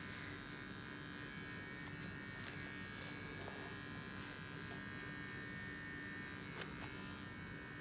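Electric hair clippers buzz steadily and continuously close by during a clipper haircut, trimming the side and neck hairs, with small clicks and shifts in tone as the blade moves.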